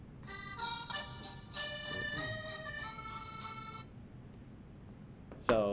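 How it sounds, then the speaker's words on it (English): A mobile phone rings with a bright electronic ringtone of bursting melodic tones for several seconds, then stops, followed by a brief sharp sound at the end. "in a second, my phone should ring."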